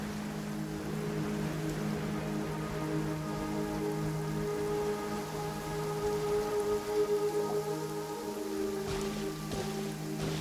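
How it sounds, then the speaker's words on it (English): Steady rain falls in a Genshin Impact game scene, a soft continuous patter of drops on the ground beneath a low droning background, with no one talking. "It's raining again?"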